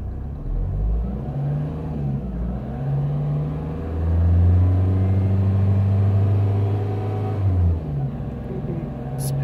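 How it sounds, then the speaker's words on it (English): A Vauxhall Opel Astra engine is revved slowly and evenly, its tone rising to a sustained higher pitch and then dropping back down. The sound is close and loud, and no voices are heard. "I'm gonna rev the engine slowly so we get this right"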